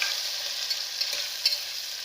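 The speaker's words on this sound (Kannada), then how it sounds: "ಎರಡು ಈರುಳ್ಳಿ ಒಂದು ಟೊಮೆಟೊ ಎಲ್ಲ ಫ್ರೈ ಆಗುತ್ತೆ" Onions and tomato fry in a pan for quick dal khichdi, giving a steady, fairly quiet sizzle with a few faint clicks and no one speaking.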